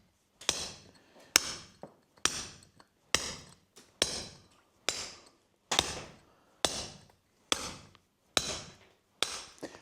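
A metal punch struck with a mallet while carving a wooden workpiece, about eleven sharp, evenly spaced knocks with brief decays, close and crisp against near silence.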